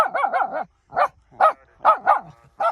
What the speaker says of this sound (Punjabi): ਉਰੇ ਖੜ ਕੇ ਭੌਂਕ ਲੈ